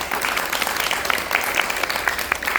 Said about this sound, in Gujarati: એક જોરદાર તાળીથી આપણે જેને વધાવીએ.